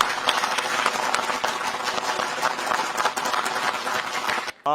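An audience at an Urdu poetry mushaira claps loudly and continuously for the poets and sponsors, a dense crackle of many hands that stops abruptly near the end.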